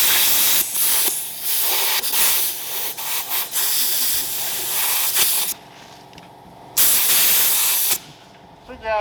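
Loud bursts of compressed air hissing into a Yamaha Wolverine ATV tire to seat the bead, long sprays broken by short pauses, with talk in between.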